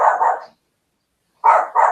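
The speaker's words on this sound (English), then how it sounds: "Barking at nothing." A dog barks in two quick back-to-back yaps, falls silent for about a second, then lets out another pair of sharp barks, close and fairly loud.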